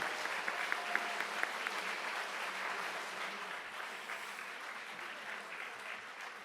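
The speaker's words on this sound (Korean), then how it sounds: "큰 박수 부탁드리겠습니다." Sustained applause from a large audience at a 5.18 Democratic Uprising memorial ceremony in Seoul, following a memorial performance, steady and dense throughout, with a few sharper claps standing out near the start.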